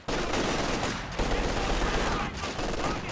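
Sustained infantry gunfire from penal troops in the Company of Heroes 2 video game, a loud continuous burst of overlapping shots with brief dips, mixed with battle noise and a voice talking over it.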